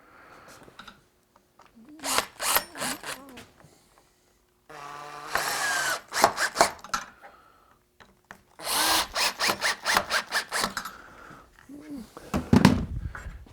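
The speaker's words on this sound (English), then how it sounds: "I'm going to screw it in, and that'll prevent that kickback. So let's screw this in." A screw gun drives a screw into a wooden stop on a woodworking jig, sounding in several loud, close bursts of whirring separated by short pauses.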